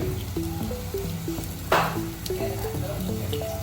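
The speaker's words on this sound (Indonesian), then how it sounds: "Lalu kita masukkan 1 butir telur puyuh yang sudah dipecahkan. Lalu dimasukkan ke dalam." A cracked quail egg drops into a pan of cooking baby food, a steady sizzle and frying crackle with stirring clinks, a brief louder hiss as the egg goes in.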